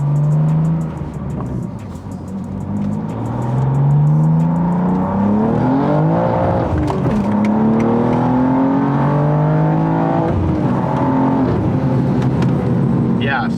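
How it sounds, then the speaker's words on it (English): An 800 hp BMW M2 G87 with a new clutch accelerates hard through quick upshifts, its loud engine note climbing in pitch, dropping briefly at each gear change, then climbing again. "So I'm a lot more confident I can move into the next gear without missing it, shifting quickly."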